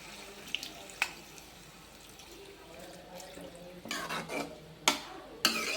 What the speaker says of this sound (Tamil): இப்போ இதை தண்ணி ஊற்றிக்கலாம்